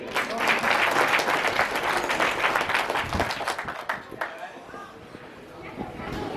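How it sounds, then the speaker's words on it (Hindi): Dense audience applause at a Hindi poetry recital (kavi sammelan) in Digrauta fills the room, loud at first and gradually tapering off, with faint crowd chatter underneath. "एक तालियां आपके लिए भी होनी चाहिए।"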